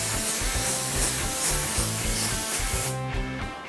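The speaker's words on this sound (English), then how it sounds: "So now I'm going to start putting the coats on the actual card itself to see how many coats it takes to hide." Spray gun applying coats of paint onto a test card, a steady broadband hiss running continuously and close, with a rhythmic low thumping underneath, cutting off near the end.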